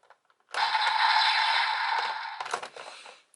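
A DX Volcano Vistamp toy is stamped into a Revice Driver, setting off a sudden burst of dense, hissing electronic sound effect that holds steady for about two seconds, then breaks into crackly bursts before cutting out.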